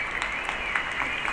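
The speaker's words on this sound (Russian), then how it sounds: "Всем хлопают, кто работает." Steady applause for medical workers in Turkey, a crowd clapping from balconies and streets at a distance, continuous and even, with a faint high whistle-like tone running through it.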